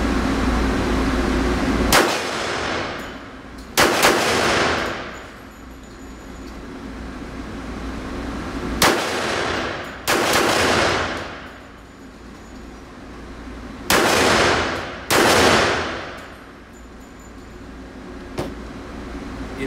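A Tisas 1911 .45 ACP pistol is fired one-handed outdoors, with sharp, loud single shots spaced a few seconds apart, some in quick pairs, each followed by a brief echoing tail.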